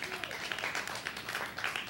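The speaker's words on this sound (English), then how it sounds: "Let's have a big round of applause now for Sue as she goes to her chair." A studio audience applauds during a radio-style show, steady dense clapping for about two seconds with cheering voices mixed in.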